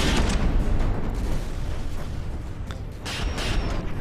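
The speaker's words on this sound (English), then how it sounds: "these cram cannons are quite annoying" Heavy cram cannon fire in the naval combat game From the Depths: a dense, rumbling barrage of booms with sharper bursts near the end, loud and continuous over four seconds with no voices.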